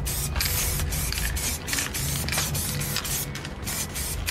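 A spray paint can sprays a coat of paint onto garden stakes, a loud, close, continuous hiss broken by short pauses between passes, with no talking.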